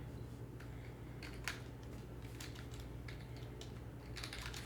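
Quiet, close typing on a computer keyboard: a scatter of light, irregular key clicks over a steady low room hum, with no talking.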